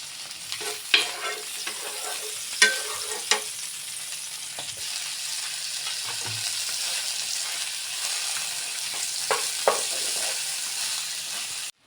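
Melted butter sizzles around pizza pav laid in a pan, a continuous close frying hiss with a few sharp clicks and knocks of a spatula pressing and moving the bread, no voices.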